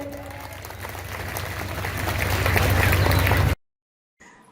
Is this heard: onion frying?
no